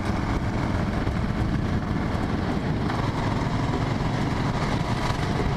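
Motorcycle exhaust fitted with a Volkswagen Beetle muffler, a steady close engine running at constant speed, a dense, even rumble with no breaks.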